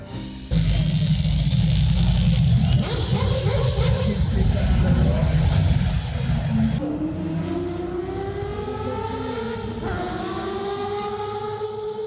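A race car roars at the Le Mans grandstand during the 100th anniversary race, a loud close engine blast that fades into high rising and falling revs as the car moves away.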